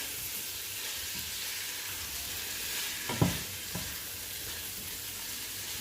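A pot of oil-less meatball sauce seasoned with basil and salt gets a quick mix, a steady hiss of simmering with a couple of faint spoon scrapes against the pan, no talking.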